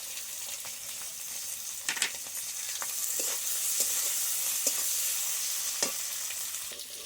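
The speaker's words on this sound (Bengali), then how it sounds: "আলুগুলো ভেজে নেব।" Potatoes with a little turmeric frying in oil, a steady close sizzle with occasional sharp clicks and scrapes from stirring, no voices.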